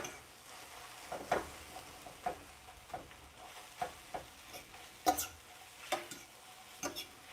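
Eggs scrambled in a pan with apricot sausage, green onions and regular onions, giving soft sizzling under a series of spatula scrapes and taps roughly once a second, fairly quiet and close.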